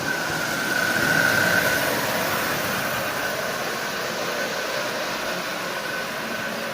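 A Marx 999 toy train locomotive, freshly cleaned, lubed and tuned, runs along with a steady, close mechanical whir and rumble. No voices are heard.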